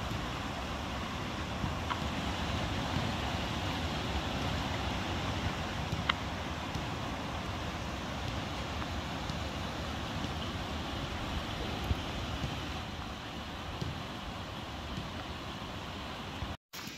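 Spring floodwater rushes steadily across a property and down into a natural creek, a constant broadband wash with wind buffeting the microphone, unbroken and fairly close for the whole stretch, then cutting off abruptly at the end.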